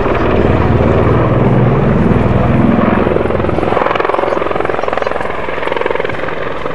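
An Army Air Corps Apache attack helicopter flies at the Farnborough International Airshow, its loud rotor thud and turbine roar filling the air continuously, the low throb fading slightly as it passes.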